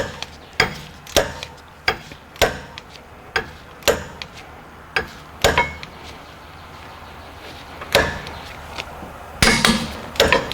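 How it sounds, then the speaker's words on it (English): A torque wrench clicks while tightening a rear wheel bearing bolt to 72 foot-pounds on an Acura MDX. The sharp metallic clicks come one after another at a ragged, near-regular pace, close and clear, with a denser burst at the end. "I hope you can hear the torque wrench click"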